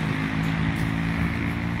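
A motorcycle on a slippery road in Finland, heard as a steady, humming engine drone with a low tonal whine that holds evenly throughout rather than clearly swelling past.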